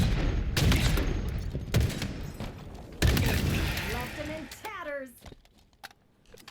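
Video game gunfire crackles in sharp, loud bursts, several shots spaced a second or so apart with echoing tails, while someone talks over it.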